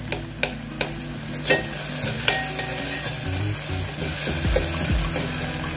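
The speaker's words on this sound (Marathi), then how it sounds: "नुसतं हलकं दाबलं चमच्याने तरी आपला टोमॅटो मेल्ट होते." Spoon stirring tomatoes frying in a pan for gavarichi bhaji, close and steady, with sizzling under repeated scraping strokes and a few sharp taps against the pan, no talk.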